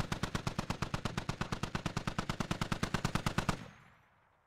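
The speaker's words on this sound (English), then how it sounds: "Another of Odessa's squad goes down from MG fire." Sustained machine gun fire from the tactical shooter Squad: a rapid, steady burst of roughly thirty evenly spaced loud shots over several seconds, stopping abruptly and leaving a short decaying echo.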